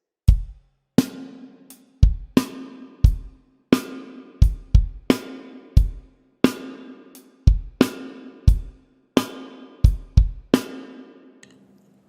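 A simple punk rock beat played on an acoustic drum kit, with punchy bass drum hits, sharp snare cracks and ringing cymbal wash in a steady pattern, loud and close with no other instruments.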